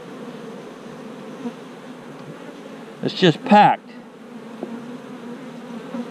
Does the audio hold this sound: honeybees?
yes